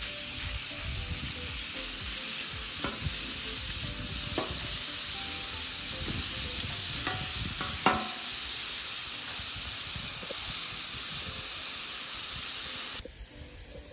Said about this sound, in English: Ooh, sizzle.